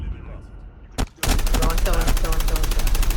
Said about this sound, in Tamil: ஏய் தூரத்துல இருந்து ஒருத்தன் ஸ்னைப்பர் அடிச்சுக்கிட்டே இருக்கான்டா.